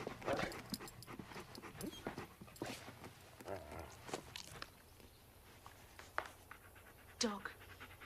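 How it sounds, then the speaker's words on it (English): A dog brought in as a playmate pants and shuffles about in The Miracle Worker, with quick breathy panting, scattered footsteps and thumps, and voices murmuring nearby. "Dog."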